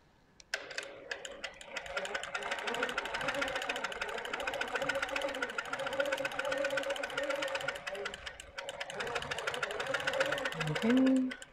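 A sewing machine runs steadily for several seconds in a quilting setting, a continuous mechanical whir and rapid clatter, then gives a short rising whine at the end as the needle is set to the down position.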